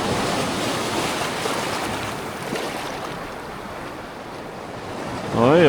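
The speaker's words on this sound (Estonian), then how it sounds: "Laine kõrgus on küll tõusnud." Rough waves surge and wash over a rocky shore of an icy sea, a steady loud roar of churning surf with wind buffeting the microphone, swelling again at the end as a bigger wave rolls in.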